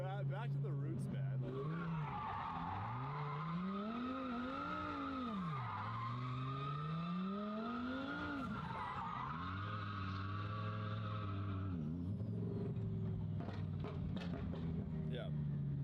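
Engine revving and tires skidding in a driving video game, the engine pitch rising and falling through repeated sweeps with squealing tire noise, while people talk over it.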